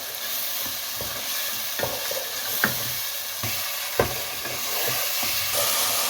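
Green chickpeas roast in a tomato masala, a dense close sizzle with several distinct spatula scrapes and knocks against the pan over a few seconds.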